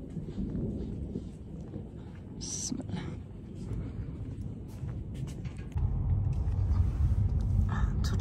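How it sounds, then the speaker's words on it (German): Thunder rumbles continuously during a storm with frequent lightning, a low, heavy roll that swells louder toward the end while a person talks over it. "Donnerblitz, ohne Pause."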